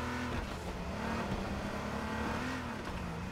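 A car drives in the survival game H1Z1, its engine humming steadily at a constant pitch, close and continuous with slight revving.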